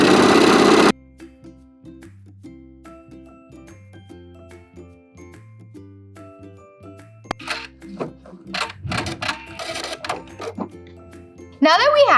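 A sewing machine zigzag stitches down the center of a folded seam on a fabric neck warmer, its motor whirring steadily in long runs with short pauses, close and clear, after a brief burst of talk.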